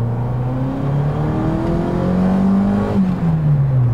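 A Ford Escort RS Turbo engine revs hard near its rev limiter. The close, strained note climbs and dips in pitch in waves, then briefly cuts before rising again, with no talk.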